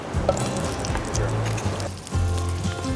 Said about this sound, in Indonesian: Radit langsung menggoreng bahan sambal terasinya